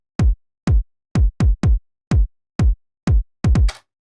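A minimal house drum loop in 4/4, with deep punchy kicks on the beat plus an extra offbeat kick and a quick sixteenth-note double hit, giving a swung, syncopated pulse, loud and dry with no voices.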